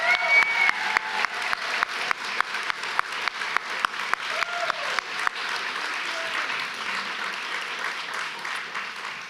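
A room's audience applauds poet Pamela Sneed after a visiting artist talk, steady sustained clapping with a few sharp individual claps standing out, gradually softening toward the end.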